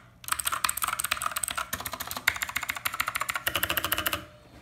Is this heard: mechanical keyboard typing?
yes